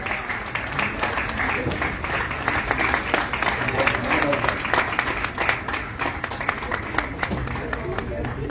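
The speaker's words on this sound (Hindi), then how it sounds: "हम सब जोरदार तालियों से इस अभिनंदन में सहभागी होंगे" An audience at an indoor felicitation ceremony gives a steady round of applause, with many hands clapping in a dense, even patter and some speech-like voices under it.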